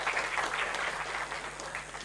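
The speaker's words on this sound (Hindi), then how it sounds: "ताली बजाओ यार" An audience applauds with steady, moderately loud clapping that carries on unbroken and fairly close, with no voices over it.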